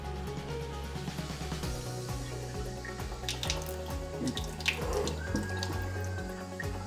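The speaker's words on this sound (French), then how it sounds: "Donc on va verser de l'eau tout simplement." Water poured into a treated kitchen sink runs and splashes steadily, with a low resonant flow and scattered drips and gurgles that swell slightly toward the end, no speech.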